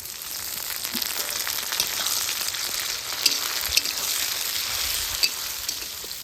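Fried onions and tomatoes sizzle in a pan with a dense, continuous crackle and hiss. A few sharper pops and stirring knocks sit on top of it, and no one speaks.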